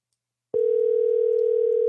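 A telephone dial tone begins after a short silence and holds steady as a continuous, fairly loud single tone while a call is being placed.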